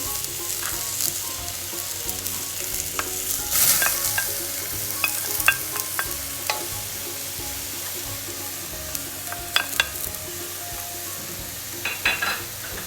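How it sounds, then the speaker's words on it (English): Onion sizzles in olive oil in a pan for Moroccan couscous with meat and vegetables, a close, steady frying hiss with scattered scraping and clinking from stirring, and no talk. "So once we mix the onion with olive oil properly, I have to add tomato."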